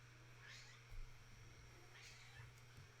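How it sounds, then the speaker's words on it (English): A house cat meows twice, about 1.5 seconds apart, fairly faint and near, over a steady low hum. "Oh my goodness, kitty."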